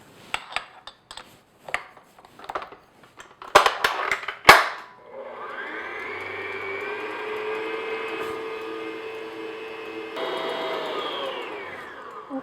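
An electric mixer beating egg whites to soft peaks for a tres leches cake: a few sharp clacks and knocks at first, then a steady motor whine that runs on at medium-low speed, close and fairly loud.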